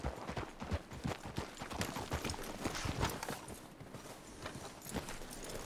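Horse hooves clip-clop at a walk in Red Dead Redemption 2, a steady rhythmic series of fairly close, moderately quiet thuds over a soft ambient background.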